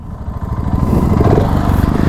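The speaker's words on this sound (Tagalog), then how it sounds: "So start natin yung motor, no." A single-cylinder 650cc motorcycle engine fires up and settles into a steady, loud, close thumping idle with a dense low pulse and no voices over it.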